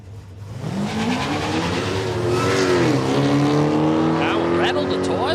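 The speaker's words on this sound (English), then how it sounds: "Carmel Brash straight back around for another pass in the Monaro" A Holden Monaro drag car launching down the strip at Palmyra Raceway, its engine building from a rumble into a loud, rising roar with gear changes, close and sustained.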